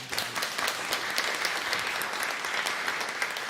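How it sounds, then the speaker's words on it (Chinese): A church congregation applauding visiting worship-team guests during a Sunday service, an even wash of many hands clapping at moderate volume without speech. "咱拍手欢迎因好"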